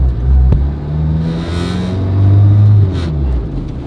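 A K24-engined turbocharged widebody Honda Civic accelerates, its loud engine note rising and falling through revs, with turbo whooshes and a short bang, heard close from on board.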